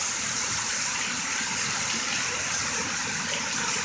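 Heavy rainwater floods a sidewalk and spills off its edge like a waterfall, a loud, dense, continuous gushing roar with no break.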